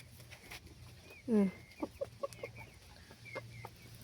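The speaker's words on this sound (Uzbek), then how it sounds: "Bular 2 yil oldin olgan tuxum yo'nalishidagi tovuqlarim." Egg-laying hens cluck softly nearby, a few short calls and one louder squawk over quiet background noise.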